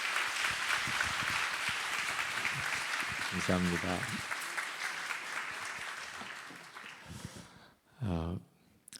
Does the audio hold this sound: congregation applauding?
yes